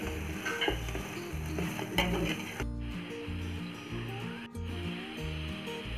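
Mutton biryani masala is stirred in a pan, with steady sizzling frying under rhythmic scraping strokes of a spoon against the pan, close and continuous.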